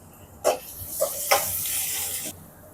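Onions and green chillies drop into a hot pan and sizzle with a few sharp hissing bursts, then settle into a soft, steady fry that cuts off abruptly.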